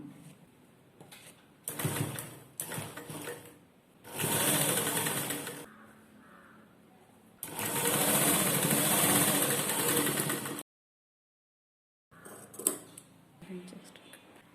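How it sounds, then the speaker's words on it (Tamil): A sewing machine stitches the edge of a lined jacket in several bursts, a few short ones and then two longer runs of rapid, even clatter, with pauses and a silent gap between them. "இப்போ இந்த ஓரத்தில் தையல் போட்டு வந்துடலாம்."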